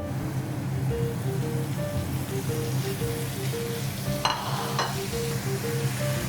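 Chicken pieces frying in a pan give a steady, close sizzle with crackling, while a repeating electronic beep pattern sounds over it and a short scrape of stirring comes near the end.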